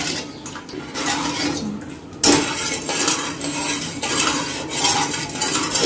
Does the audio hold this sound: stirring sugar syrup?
yes